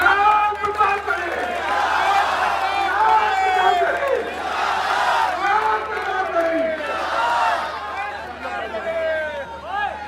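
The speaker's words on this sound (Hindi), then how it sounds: "एक बार जोरदार ताली बजा दी" A large crowd at an outdoor political rally at Jama Masjid Park in Moradabad claps and cheers loudly and continuously, with shouting voices rising over the dense applause.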